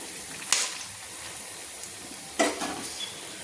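Whole spices, cardamom, cloves, peppercorns, cumin and two dried red chillies, sizzle in hot oil as a steady low crackle, punctuated by two sharper bursts as items drop or are stirred; no speech.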